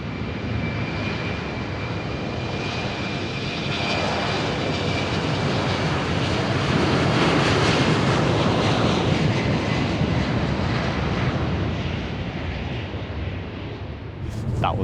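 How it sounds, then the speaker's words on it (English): A KLM airliner takes off at a London airport, its engines building into a loud, continuous roar that swells as it nears and passes overhead, then fades slightly near the end. "the KLM that is currently taxiing is probably going to be taking off towards me"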